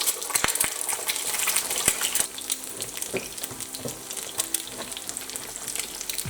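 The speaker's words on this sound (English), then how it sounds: "time to fry our eggs" Eggs frying in a pan sputter with a lively, close crackle, sharp pops scattered over a steady sizzle for several seconds, without any talking.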